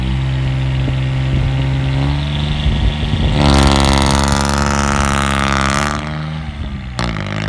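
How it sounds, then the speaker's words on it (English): A car with a supercharged Kubota diesel engine idles, then revs hard as it launches and accelerates away, a loud rising roar that drops off before a second rev. "we did a few hard launches to get an idea how much coal this car is pumping out"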